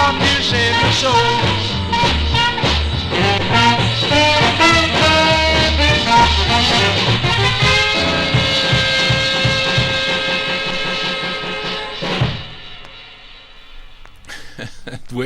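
A 1955 rock record plays loud and driving with a pounding beat, ending in a final chord that gives way to brief quiet.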